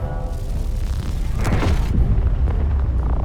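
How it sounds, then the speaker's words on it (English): A standard railgun fires in the Space Engineers survival game, producing a heavy booming blast around the midpoint over a constant low rumble of game ambience, with a sustained roar trailing after. "I'm just gonna take them out with the standard railgun"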